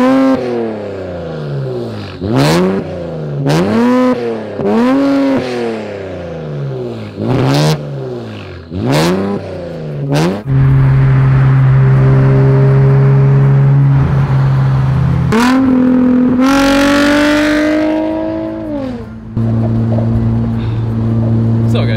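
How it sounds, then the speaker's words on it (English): A modified Nissan 350Z engine revs in a series of sharp, close, loud blips, then holds a steady droning idle before another long rising rev, with no talking. "It's probably one of the worst sounding engines from Nissan."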